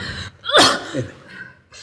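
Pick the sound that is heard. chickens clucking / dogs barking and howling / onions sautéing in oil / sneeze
sneeze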